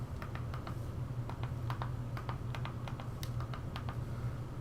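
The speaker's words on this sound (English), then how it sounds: "You have to type this in exactly as I type it in." Quick, irregular keystrokes on a computer keyboard as a web address is typed in, close and clear over a steady low electrical hum.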